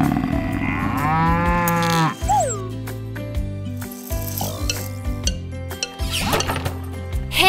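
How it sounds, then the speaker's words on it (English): Cattle-like buffalo moo plays over a bright children's song backing, a single drawn-out low bellow rising out of steady music with a percussive ratchet-like clatter. "Buffalo."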